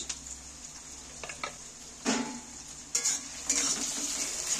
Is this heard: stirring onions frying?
yes